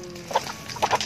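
Domestic chickens cluck in a few short bursts, with a louder pair of calls near the end over a steady low background.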